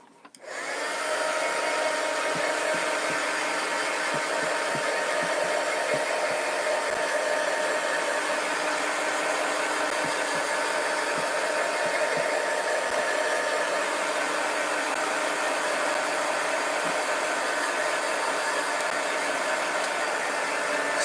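A hair dryer blows steadily and loudly for about twenty seconds, drying coated mixed media artwork, a constant close whooshing hum with no talk.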